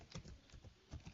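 Quiet close-up tapping on a computer keyboard while writing C code, a short run of soft uneven keystrokes with small pauses between clusters and no talking.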